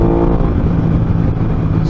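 A 2021 Aprilia RS660 middleweight sportsbike being ridden, its engine giving a loud, steady close drone under constant throttle for a couple of seconds, with no talk.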